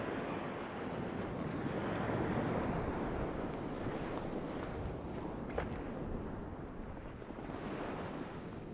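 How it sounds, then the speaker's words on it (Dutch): Wind buffets the microphone at a Dutch kitesurfing beach while surf rolls in underneath, a loud, broad, continuous rush that swells and eases over several seconds with no voices. "er staat nu genoeg wind om te varen"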